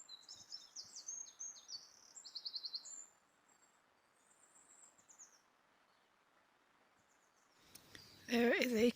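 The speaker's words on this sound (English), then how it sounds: "There is a kingfisher out." A kingfisher calls repeatedly outside a van on the French Atlantic coast, a run of high, thin, piercing chirps that carry across the first few seconds before fading, followed by faint background and a brief burst of louder noise at the end.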